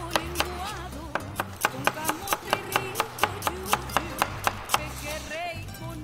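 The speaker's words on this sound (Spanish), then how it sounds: "cortamos un poco de cebolla" A knife chops onion on a cutting board in a steady, quick rhythm of about eighteen close, crisp strikes, with faint talking underneath.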